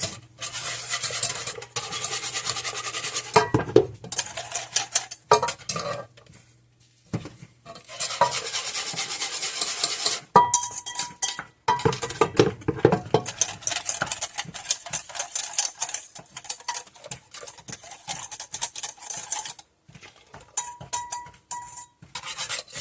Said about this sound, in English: keep mixing this, keep whisking it until you notice that it starts to thicken up